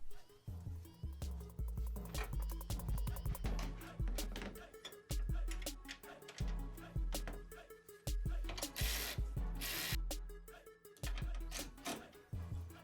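Band clamps tightened by hand on the throttle body of a 2012 Jeep Compass, a series of close, quiet clicks, ratcheting and scraping taps in irregular rhythm with brief pauses.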